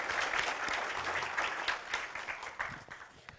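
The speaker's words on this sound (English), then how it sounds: "One last applause." A crowd applauds after a presentation at a PKNovate event, with sustained, even clapping from many hands that stays fairly quiet and slightly distant.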